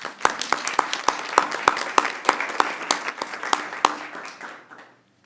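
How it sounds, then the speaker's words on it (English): A round of applause at a regular city council meeting: a few people clap in a steady, moderately loud rhythm for about four seconds before it tapers off into quiet. "I think that truly deserves an applause from us"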